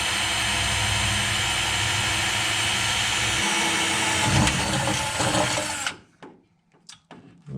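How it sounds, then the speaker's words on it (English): A right angle drill drives screws into a dual fan shroud and battery tray being installed in a Barracuda engine bay, a steady loud whir for about six seconds that stops abruptly, followed by scattered clicks and short handling noises. "So I got my right angle drill here, and I'm kind of squeezing it up in here."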